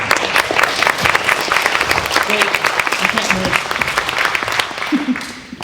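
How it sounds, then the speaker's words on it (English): An audience at a campus presentation night claps steadily in dense, sustained applause that fades slightly toward the end, with a few voices audible under it. "Let's give them another round of applause."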